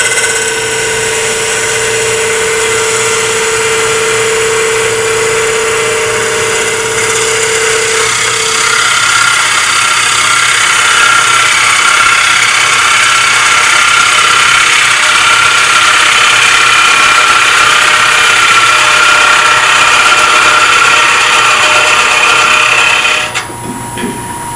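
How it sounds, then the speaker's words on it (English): A wood lathe spins a segmented bowl as a bowl gouge cuts, loud and close, a steady motor whine under a rough cutting hiss that runs without a break until it drops off near the end, with no voices. "I'll try a couple of cuts, and then I'm going to change over to the scraper"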